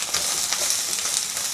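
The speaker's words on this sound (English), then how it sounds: "Now listen to the sizzling sound, it's very satisfying." Beef, cabbage and aromatics sizzle in a stir fry over high heat, giving a loud, continuous crackling hiss with small pops that persists for the whole short stretch.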